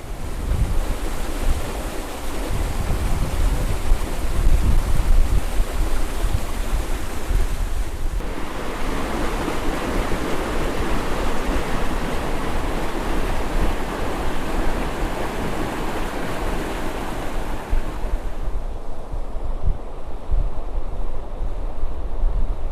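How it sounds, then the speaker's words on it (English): Strong flow of water pouring out of a bog and surrounding fields onto a beach, heard as a loud, continuous rushing wash mixed with heavy wind buffeting the microphone, steady throughout with no voices. "there is a serious flow of water coming out of the bog there and the surrounding fields"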